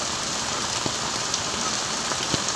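Hard rain from a typhoon-driven thunderstorm in Dasmariñas falls as a steady, dense hiss on surfaces, with occasional louder drops standing out nearby and no voices.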